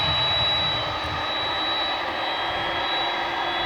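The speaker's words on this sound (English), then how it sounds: "I think it just got a clear for takeoff." A UPS jet airplane at Dallas/Fort Worth Airport at night, its engines giving a steady, loud roar with a faint high whine throughout.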